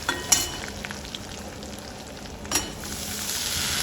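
Coriander powder and turmeric sauté in a pan for a dry broccoli dish, giving a soft, steady sizzle with small crackles and a brief louder burst of stirring.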